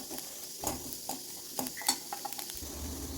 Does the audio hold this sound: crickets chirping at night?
no